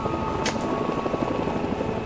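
A helicopter flies low over a rhino on a South African game capture: a steady mid-distance rotor thrum with a faint chopping pulse, and a brief hiss of wind or gear partway through.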